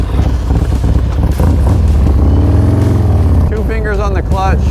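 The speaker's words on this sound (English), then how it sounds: "I just did a little burnout, 10 miles an hour" A motorcycle engine roars through a brief burnout at about 10 miles an hour, a loud rising and falling drone with wind buffeting the microphone, and a voice speaking over the end.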